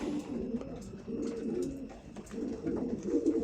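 Pigeons coo in low, repeated, throaty phrases, close by and fairly soft, with a few faint rustles between calls.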